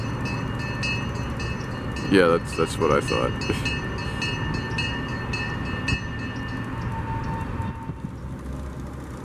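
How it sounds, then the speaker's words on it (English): A train rumbles and rattles past steadily with a screeching squeal of wheels, while a person speaks briefly over it. "maybe the train passing by is kind of distracting you"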